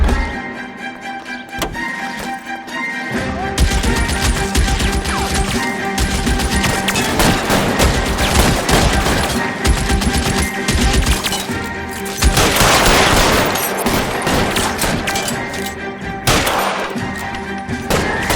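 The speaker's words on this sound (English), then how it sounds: "Open fire!" Gunfire in the video game L.A. Noire: sustained loud bursts of shots and rattling automatic fire with crashes and impacts, continuing almost without pause for about eighteen seconds.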